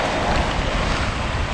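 Violent surf crashing at a wild Canadian beach, a constant loud roar of breaking waves buffeted by strong wind gusting across the microphone.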